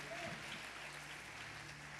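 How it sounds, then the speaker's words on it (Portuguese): Church congregation claps together at a worship service, a brief, faint and somewhat distant burst of applause fading into room noise. "dá um aplauso a Jesus"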